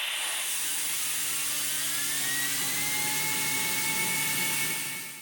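3D printed turbo pump spun up by pressurized air, a loud, steady high-pitched whir with rising turbine whine tones that fades slightly at the end.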